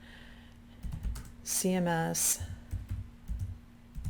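Keys clatter on a computer keyboard as a search term is typed into Google, a soft run of clicks beside a brief spoken word.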